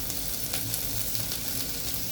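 Carrots tossed into onions frying in a pan for mint rice, giving a steady close sizzle that runs without a break and has no talk over it.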